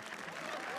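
Brief audience applause at a live comedy roast show, a short, steady patter of many hands filling the moment at moderate volume.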